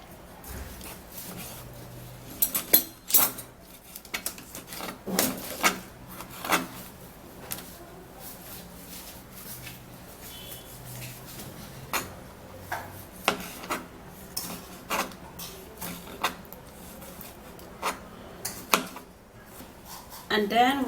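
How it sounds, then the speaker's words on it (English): Knife slicing through a fresh tomato on a cutting board, giving a run of sharp knocks and taps spread unevenly, close and fairly clear over faint room noise with no talk. "we're going to be cutting the tomato"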